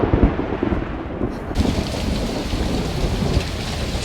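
A thunderstorm with heavy rain in the film Minari: a dense, steady downpour over deep rumbling thunder, loud and close, with no voices.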